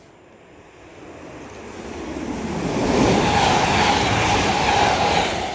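A Class 180 Adelante train passes through Retford on the East Coast Main Line, a rushing roar that grows from distant to loud and close as it goes by, with no voices.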